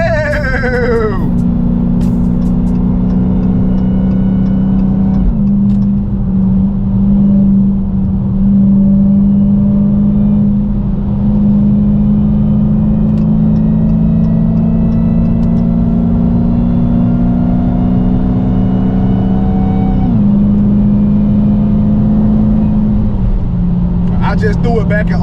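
A 2021 Dodge Challenger SRT Hellcat engine drones loud and close from inside the cabin as the car accelerates, its pitch climbing steadily and dropping back at a couple of gear shifts.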